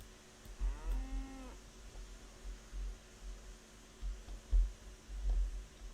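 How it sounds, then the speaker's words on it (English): Cattle moo inside a livestock car in the train game RailRoads Online, a single clear moo near the start over faint fan-like hum and soft low thumps. "Okay, we got 20 cattle in there."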